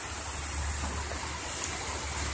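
Spring water gushes steadily out of a small cave after rain, a constant broadband rush of flowing water, fairly faint and even with no voices.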